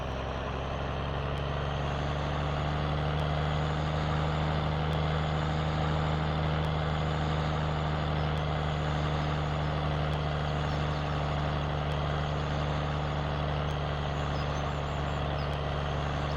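A snow plow truck in Farming Simulator 17 drives along with a constant, heavy engine drone and a steady low hum, loud and unchanging throughout, with no talking.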